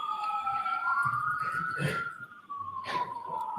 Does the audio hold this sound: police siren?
yes